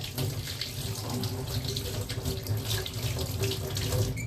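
Water from a kitchen tap runs steadily into a sink as hands are washed, a close, continuous splashing hiss with small fluctuations throughout and no talking.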